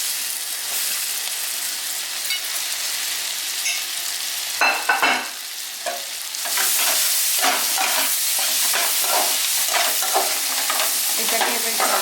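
Chopped onions and green chillies sizzle steadily in oil in a pan, with repeated spatula scrapes and stirring strokes close up; after a brief lull midway the frying hiss grows louder.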